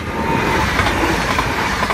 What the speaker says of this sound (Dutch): wat hebben wij geluk met de losse treinen ineens